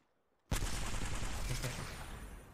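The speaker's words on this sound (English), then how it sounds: "They're shooting at me." Heavy gunfire in a shooter video game, with the player under fire, breaking out suddenly after a brief silence as a dense, loud barrage that continues steadily and fades slightly toward the end.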